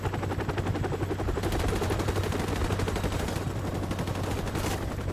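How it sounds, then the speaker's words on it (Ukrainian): Rapid, continuous automatic gunfire in Call of Duty: Modern Warfare Remastered fills the whole stretch, dense and loud, with bursts overlapping throughout. "Хтось лежить і стріляє"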